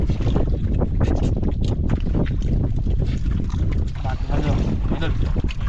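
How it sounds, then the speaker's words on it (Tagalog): Strong wind buffets a small boat at sea near an island, roaring steadily into the microphone with low rumble and splashing water, with voices faintly talking beneath the gusts. "Lakas hangin."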